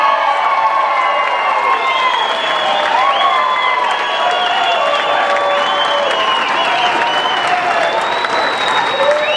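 A crowd at the New Mexico Sports Hall of Fame induction for Mike Smith claps and cheers loudly. Whoops and shouts rise and fall over sustained applause for about nine seconds.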